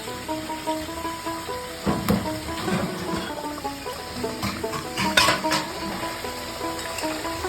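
Fish cooking in a pan with boiled potatoes for a curry, giving a steady close sizzle with occasional stirring clinks and scrapes over a constant background hum.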